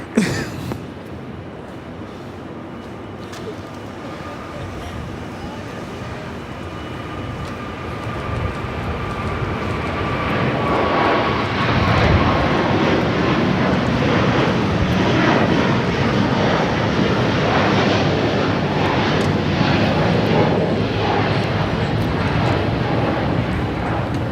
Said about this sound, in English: This is Qatar Airways 742 taking off to Doha on the A350-1000.